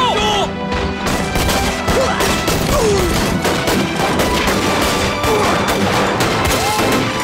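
Massed gunfire in a war drama about prisoners of war seizing an ammunition depot and wiping out Japanese troops, dense loud continuous volleys of shots with crashes and impacts, voices shouting underneath.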